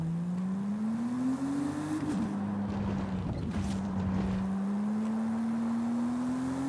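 A car engine drones steadily in Forza Horizon 5 during a track day event, the pitch climbing, dipping briefly, then rising again as the car is driven in manual.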